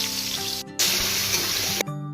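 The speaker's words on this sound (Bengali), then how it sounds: "এবার আলুগুলো ভেজে নিব।" Potatoes sizzle hard in hot white oil in a wok, in a loud, steady crackling fry with a brief dip partway through and no voices.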